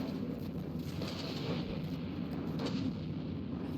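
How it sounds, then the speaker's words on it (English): Gunfire from a vehicle's turrets in the naval combat game From the Depths, a dense, continuous rumble of heavy guns and impacts that stays loud and steady throughout without talk. "The tier is immobile, but it is still able to fire all of its guns"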